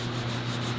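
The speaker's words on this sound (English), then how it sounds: "As you're blocking and sanding for probably hours." Block sanding on the bodywork of a wide-body Lamborghini Aventador kit gives a loud, continuous abrasive rubbing with a faint rhythmic swish as the block moves back and forth.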